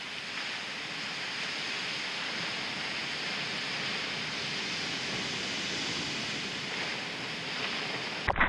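Ocean surf at a beach break with closing-out waves at high tide, a steady broadband roar of breaking water and strong backwash churning continuously, loud and close, with no voices.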